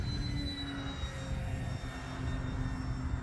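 An E-flite Decathlon RJG 1.2m electric RC airplane flies at about half throttle, giving a steady, faint motor drone with a thin high whine that holds level throughout.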